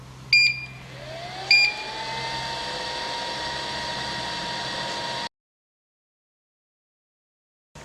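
A 3D vacuum heat press sublimation machine, set to 200 degrees, starts with two sharp beeps, then a steady whirring hum with a rising tone that runs loudly before cutting off abruptly into silence.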